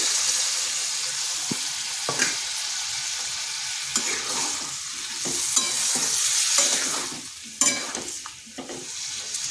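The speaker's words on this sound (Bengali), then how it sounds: "এখানে আরেকটু জল দিচ্ছি।" Water poured into a pan of young jackfruit cooking on the stove sets off steady sizzling, with stirring scrapes and a few sharp clanks of a utensil against the pan, heard close and without talk.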